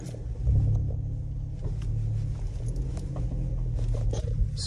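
A Hyundai Veloster N on a short drive around the block, its engine a low steady rumble heard from inside the car, fairly quiet and constant with no talking.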